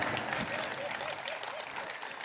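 Audience at an Indian Hindi poetry recital breaking into steady, full applause, a dense continuous clapping that stays loud and even throughout.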